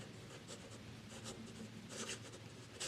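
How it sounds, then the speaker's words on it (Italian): Pilot Justus 95 fountain pen nib scratching across rough paper, a soft continuous close scratching with brief brighter strokes, faint and steady with no talk. "Su una carta come questa, che è una carta comunque ruvida, la penna scrive davvero molto bene."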